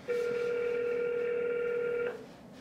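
A telephone call tone sounds while calling EcoWorthy customer support: one loud, steady electronic tone that holds for about two seconds, then cuts off, leaving quiet line hiss, with no voices.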